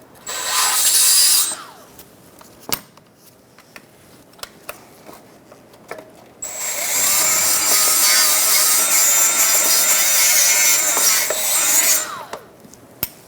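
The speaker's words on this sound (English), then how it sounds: "now you just want to clean up the mount surface a little bit" A tool scrubs rust off the engine torque strut mount surface of a 2012-2017 Hyundai Accent 1.6L L4, with two loud, sustained scraping bursts, one short and one longer, separated by quiet clicks and taps.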